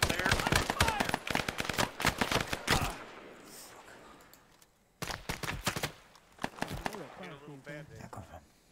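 Automatic gunfire in the Arma 3 S.O.G. Prairie Fire video game, rapid loud bursts, then a lull and a second burst, with voices talking over the later shots.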